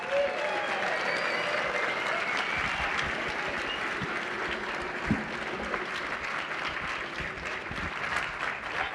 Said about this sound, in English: one more round of applause to say thank you to Troy.